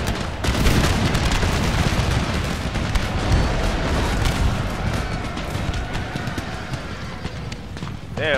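Artillery firing in the Empire Total War video game, sounding as a loud, dense, continuous rumble of battle noise with rapid cracking shots throughout.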